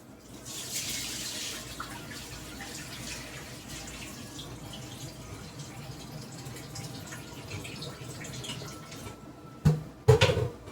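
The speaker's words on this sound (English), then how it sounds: "Don't trust your rice. Always wash it." Tap water runs steadily into a sink as rice is rinsed, a continuous close splashing stream for about ten seconds, ending in a few louder knocks and splashes.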